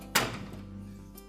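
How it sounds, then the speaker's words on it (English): A Whirlpool dryer door shuts with a single short thunk and a brief resonant ring, close by and alone. "Then we'll close that door up."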